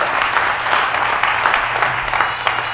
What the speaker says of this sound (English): Can we give them a hand clap again?